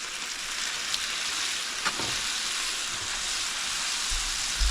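Chicken for a mozzarella bacon ranch dish searing in a hot pan gives a steady, close, loud sizzle that runs unbroken, with a soft knock near the end and no talk.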